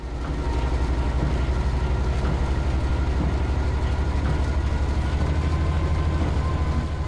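A Rivet Engineering train running in Train Sim World, loud continuous low engine drone with rail rumble, steady throughout and no talk.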